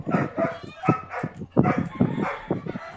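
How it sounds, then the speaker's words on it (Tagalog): A pet dog barks and yips in a loud, rapid string of sharp bursts close by, indoors during a game stream, with a few faint voice fragments mixed in. "Ang ingay ng aso ko eh."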